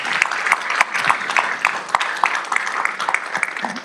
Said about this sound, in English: Adriana, let's give her a round of applause and thank her for all the work that she does.